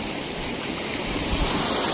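A flowing stream near Fophsandi village, waded through on foot, gives a steady close wash of rushing water with no voices.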